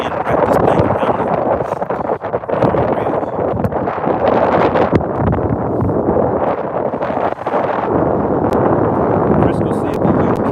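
Strong wind gusts buffet the microphone aboard a bass fishing boat, a loud, continuous roar with rustling and flapping bursts throughout, and no clear speech.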